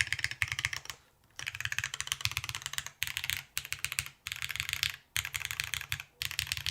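Close-up typing on a Keycult No. 2 TKL mechanical keyboard, with bursts of quick, clean keystrokes broken by brief pauses about every second, and no talking.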